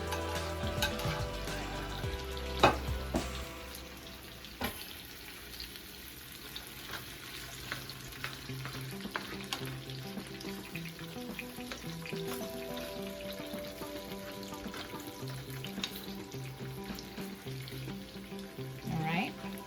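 Vegetables for Jamaican ackee and saltfish frying and being stirred in a pan: a steady close sizzle with scattered scrapes and clicks of the spoon against the pan running throughout, with no talk.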